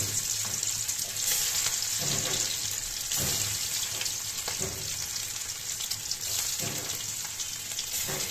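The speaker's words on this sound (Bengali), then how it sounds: "এখন মাছটি ভাজবো" Small puti fish fry in a pan on a gas stove with a constant loud sizzle and crackle, joined by occasional stirring scrapes throughout.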